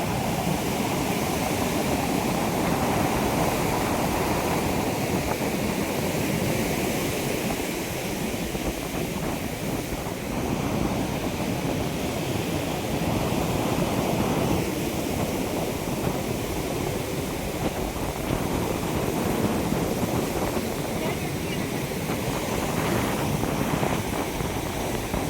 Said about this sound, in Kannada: ಇಲ್ಲಿನ ಗಾಳಿ, ಅಲೆಗಳ ಸದ್ದು ನಿಜವಾಗಿಯೂ ಮನಸ್ಸಿಗೆ ಒಂದು ರಿಲ್ಯಾಕ್ಸ್ ಫೀಲಿಂಗ್ ಕೊಡುತ್ತೆ